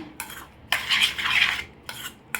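A spoon stirs salted egg paniyaram batter in a bowl, giving a few close scraping and clinking strokes in short bursts, with no voices.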